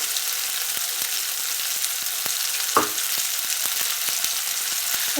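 A thick masala with cashews and sesame seeds, for a peas and potato curry, fries in a pan with a steady close sizzle, punctuated by soft regular scrapes of a spoon stirring to keep it from sticking.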